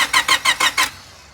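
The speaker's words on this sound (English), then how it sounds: "So we have distributor and fuel pump disabled, and we're just cranking it." A Honda D15B engine cranks on the starter with its distributor and fuel pump disabled, giving six rhythmic, even compression pulses in about a second, close and loud, then stopping without catching.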